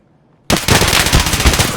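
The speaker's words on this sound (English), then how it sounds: "Full auto with my MP5." Full-auto MP5 fire in the video game Escape from Tarkov: after a moment of near silence, loud, rapid, continuous gunfire runs for over a second, close and dominant.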